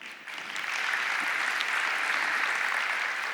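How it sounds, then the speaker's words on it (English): Audience applause at a blockchain conference in Abu Dhabi, a steady crowd of clapping that swells quickly and holds evenly throughout, fairly close and dense. "Let's give ourselves a round of applause,"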